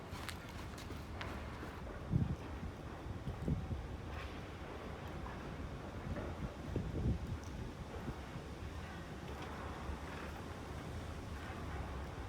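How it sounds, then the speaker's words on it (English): Strong wind buffets the microphone outdoors beside an abandoned Boeing 747 jumbo jet, a steady broadband roar with a few louder gusts and thumps, no talking. "It's super windy out here."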